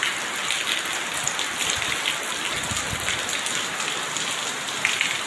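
Heavy rain pours steadily, a dense continuous hiss of drops hitting surfaces close by, with no talking.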